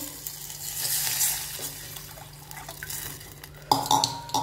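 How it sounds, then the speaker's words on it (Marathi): Water poured into a hot cooking pot while making a fasting peanut curry, a hissing bubbling rush that swells midway and ends in a few sharp pot clanks, close and alone. "इकडे आता आपण पाणी घालू"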